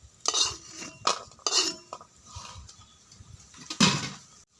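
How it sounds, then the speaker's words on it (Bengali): Fried lentil dumplings are scooped out of a pan in a home kitchen, with several sharp metal scrapes and clinks of a spoon against the pan, spaced irregularly and fairly close. "এগুলোকে তুলে নিচ্ছি"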